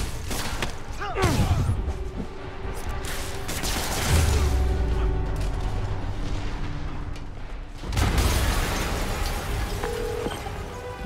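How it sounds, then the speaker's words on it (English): Heavy explosions in the Marvel's Spider-Man Remastered game on PC: deep booming blasts with rumbling tails recur at intervals, loud and close, mixed with crackling debris and game sound. "Yuri, an explosion just..."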